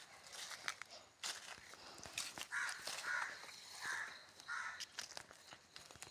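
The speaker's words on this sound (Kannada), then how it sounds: "ಕಾಗೆ ಕೂಗ್ತಾ ಇದೆ ಬೆಳಿಗ್ಗೆ." A crow caws four times in steady succession, fairly close, on a quiet morning, with soft footsteps and rustling crinkles scattered around the calls.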